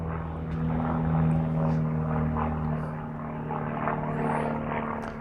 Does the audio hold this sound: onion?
no